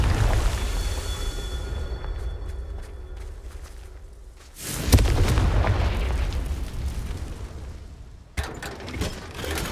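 In Hogwarts Legacy, a Confringo fire spell blasts with a deep rumbling explosion, then a second heavy boom follows amid sustained crackling roar and a sharp burst near the end, loud and dense with game effects.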